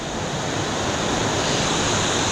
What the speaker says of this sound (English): So I went a little bit further upstream and I found another waterfall.